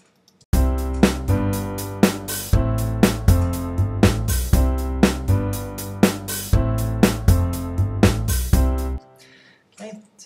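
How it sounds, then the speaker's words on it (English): A simple song demo of piano chords with upright bass and a drum kit plays in a steady groove, the drums punctuating each beat, then it stops abruptly and a brief quiet tail follows. "We have piano, an upright bass, and a drum kit."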